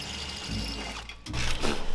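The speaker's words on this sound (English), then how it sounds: "See if I can just high speed drill it." A high-speed drill grinds and chatters as it bores out nut zerts on a 1,000 hp Plymouth Barracuda body, loud and close, with a short dip mid-cut before biting in again.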